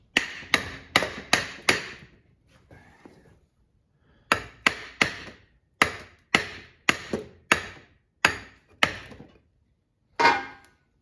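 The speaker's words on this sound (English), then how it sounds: "start by gently striking it with a hammer" Sharp, ringing hammer strikes on a snowplow pump motor's metal housing, a quick run of five, a pause, then a longer series of evenly spaced blows and one final hit.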